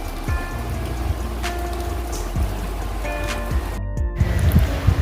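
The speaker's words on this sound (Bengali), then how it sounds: "বৃষ্টি পড়ছে কিন্তু হালকা মানে কুড়ি কুড়ি বৃষ্টি পড়ছে" Rain falls steadily on surfaces during a storm, a continuous close patter with a few brief tonal noises and knocks, no speech.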